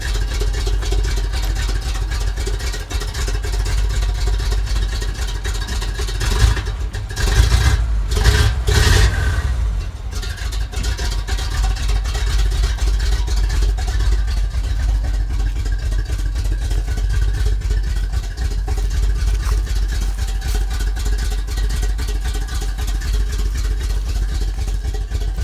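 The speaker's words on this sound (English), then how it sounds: "460 fuel injected V8." A Ford F350 four-wheel-drive truck with a fuel-injected 460 big-block V8 runs steadily at idle, a deep continuous rumble with a brief louder rev near the middle before settling back.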